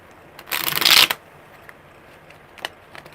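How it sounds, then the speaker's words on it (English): A deck of tarot cards is riffled in one quick, loud shuffle of under a second, followed by a few faint taps and card handling sounds in a quiet room. "one more good shuffle"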